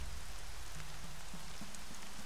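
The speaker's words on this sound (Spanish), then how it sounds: "La lluvia no es tan mala." Steady rain pours down in the Horizon video game, a dense continuous hiss close by, with a few faint tonal game sounds underneath and no voices.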